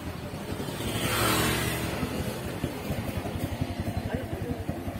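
A street vendor's motorized tricycle idles close by with a rapid, steady engine putter after a brief louder swell of passing traffic early on.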